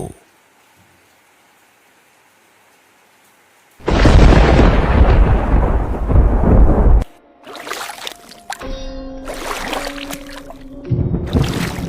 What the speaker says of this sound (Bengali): ওই দেখো আকাশে যে কালো মেঘ ঢেকে গেছে, প্রচন্ড বিদ্যুৎ চমকাচ্ছে